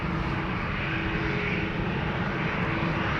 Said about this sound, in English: And here we have Transavia going to Hurghada, flight 5225 737-800